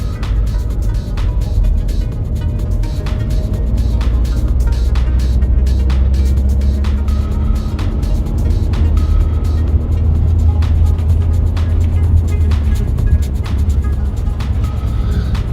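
Engine of an automatic car driving on the road, a steady loud low drone with a slowly rising tone as it accelerates, continuous throughout with no talking.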